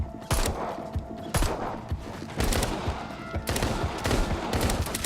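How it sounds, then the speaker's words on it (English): Repeated bursts of gunfire from shooting zombies in the VR video game Arizona Sunshine, with four loud volleys of rapid shots separated by brief pauses, heard alone without talk. "And I love shooting zombies."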